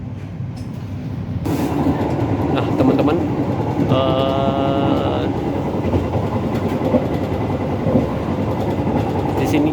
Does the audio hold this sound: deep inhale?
no